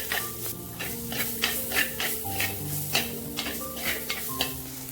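A spoon scrapes and stirs ground green coconut paste frying in a pan, giving steady rhythmic strokes over a soft sizzle at close range.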